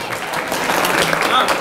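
Audience applause at a rabbi's lecture in Or Yehuda, a short steady burst of many hands clapping filling the room.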